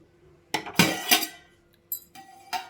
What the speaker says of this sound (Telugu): ఇప్పుడు మూత పెట్టేసుకుందాం ఇలా